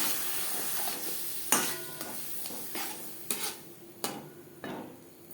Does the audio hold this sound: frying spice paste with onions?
yes